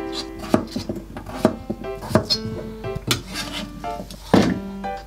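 A knife chops potatoes on a cutting board for a Hokkaido-style Japanese cream stew, with a dozen or so uneven, close, crisp knocks against the board and no talking.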